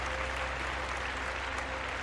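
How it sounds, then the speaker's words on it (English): A round of applause during a paranormal call-in show, a steady, dense wash of clapping with a low hum running underneath, even in level throughout. "we'll give him a round of applause."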